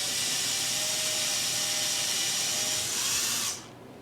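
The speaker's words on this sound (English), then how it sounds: "drill a hole for the router pivot point to pivot on" A steady, high-pitched power drill whirs continuously for a few seconds, drilling a hole in wood for a guitar-building jig, then cuts off abruptly near the end.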